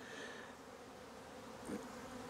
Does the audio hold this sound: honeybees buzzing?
yes